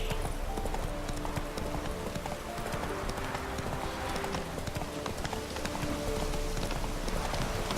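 Galloping horse hooves from the video game Witcher 3 pound in a steady, fast rhythm, loud and close throughout, with a patter like light rain and game ambience running continuously underneath.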